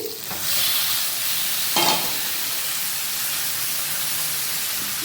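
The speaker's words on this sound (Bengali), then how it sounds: "2 মিনিট ধরে এটা কষিয়ে নেব ভালো করে। আমি মাটনটাও দিয়ে দিচ্ছি।" Mutton sautéed with masala in a hot pan for a Bengali mutton curry, a loud continuous close sizzle and hiss that flares briefly as pieces are stirred, no speech.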